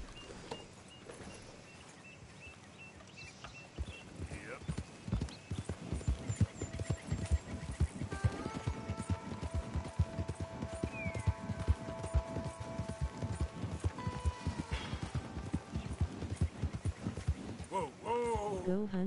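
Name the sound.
horse hooves clip-clopping in a video game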